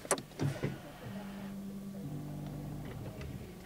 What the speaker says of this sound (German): Man hört halt jetzt nur nichts mehr, außer dass jetzt wirklich hier die Elektronik im Fahrzeug angeht.